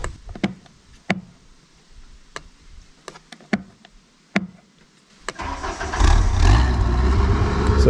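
A boom lift's carburetor-fed engine first gives several sharp separate clicks and knocks, then cranks and catches near the end, settling into a loud rough running rumble for the final two seconds.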